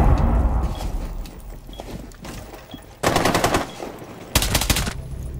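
Gunfire in the tactical shooter Rainbow Six Siege: two loud, sharp bursts of rapid automatic shots, the first near the middle and the second toward the end, over a busy low rumble of in-game ambience.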